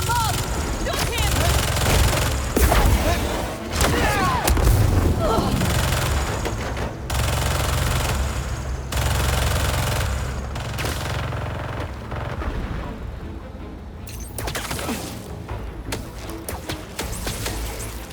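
Repeated bursts of automatic gunfire from enemy soldiers shooting at Spider-Man in Marvel's Spider-Man 2, loud and sustained throughout with crashes and game effects mixed in, and voices talking over the shooting.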